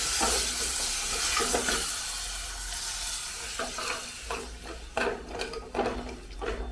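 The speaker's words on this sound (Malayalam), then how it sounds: "ഇനി നമുക്കിതിനകത്തേക്ക് കുറച്ച് വെള്ളം ഒഴിക്കാം." Water poured into a hot pan of simmering stew, a steady hissing sizzle with stirring scrapes and occasional clatter, close and moderately loud throughout.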